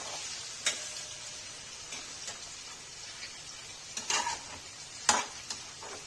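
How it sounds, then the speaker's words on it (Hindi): Paneer fries in a pan with a faint, steady sizzle, broken by a few sharp clicks and scrapes of stirring. "गाइस देखिए वैसे मैं पनीर भी फ्राई कर रही हूँ।"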